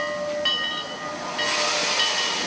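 A train in Yaguachi, Guayas province, sounds its whistle, a steady tonal blast joined by hissing steam, fairly loud with rail noise and no talk.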